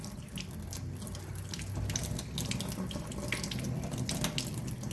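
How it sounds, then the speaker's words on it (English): Water runs from a tap over garden seeds in a strainer, a steady, full splashing rush of faucet flow that lasts the whole stretch without talk. "I've poured my seeds into the strainer, and then we're just, like I said, just going to rinse them off"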